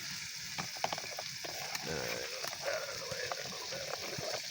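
Bacon strips frying on a homemade DIY stove, a steady broadband sizzle with scattered pops and crackles running throughout, close and fairly loud.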